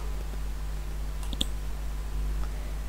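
A couple of quick, sharp computer mouse clicks close together, faint over a steady low room hum while someone registers on a website.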